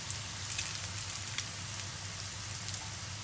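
Quail egg wontons frying in hot oil give a steady, soft crackling sizzle with scattered light pops, close and continuous, no talk.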